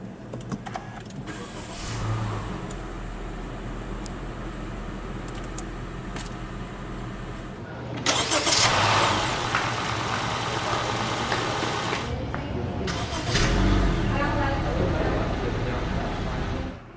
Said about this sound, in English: hit this engine start stop button to fire up the engine.